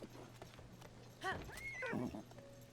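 A horse in the video game The Legend of Zelda: Tears of the Kingdom gives a clear, short whinny over faint hoof clip-clops and quiet game ambience, fairly soft overall.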